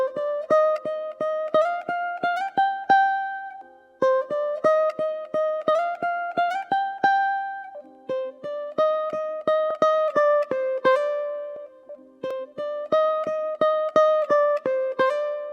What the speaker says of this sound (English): Next up, we've got the lead guitar that sounds like this.